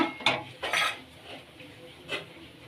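A spoon scrapes and clinks against a pot while thickened milk mixed with milk powder is stirred for mango ice cream. The close, moderately quiet strokes come in irregular bursts, with no talk.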